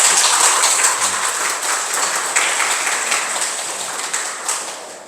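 A crowd at an outdoor Korean Buddhist celebration ceremony applauds with dense, continuous clapping that gradually tapers off over several seconds, heard fairly close without any talking.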